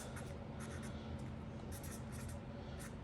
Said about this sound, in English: So, draw a line there.